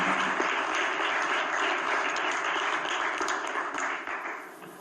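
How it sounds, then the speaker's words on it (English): Sustained audience applause at a business conference honoring Dr. Rashida, a dense steady wash of many hands clapping that fades slightly toward the end. "Give Dr. Rashida a round of applause for me."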